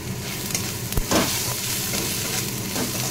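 Turmeric, salt and spices being stirred into a katla fish curry in a pan, a steady close sizzle broken by a few scraping stirs and a clack of the spoon.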